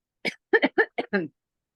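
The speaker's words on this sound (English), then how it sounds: "Pardon me, I have to cough." Five quick, sharp bursts in a row, close and clear, like a short fit of coughing against silence.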